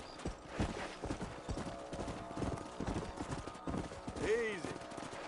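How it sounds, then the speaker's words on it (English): Horse hooves clip-clopping in a steady trotting rhythm in Red Dead Redemption, a quiet string of close hoof knocks with a brief whinny toward the end and talk faintly mixed in. "Let's get back on the horses"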